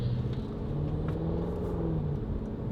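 A deep, rumbling Range Rover SVR exhaust with Valvetronic Designs valves open drones steadily with a low, throaty tone, fairly quiet and continuous, no voices.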